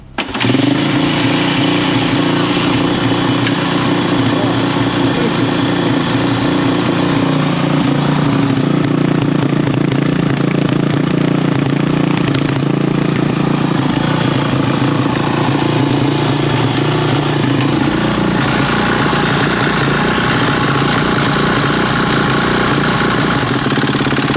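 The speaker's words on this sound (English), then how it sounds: "So try to start the bike." A Kawasaki KX450F dirt bike under restoration runs continuously, its engine starting at once and holding a loud, steady idle close by throughout, with no speech.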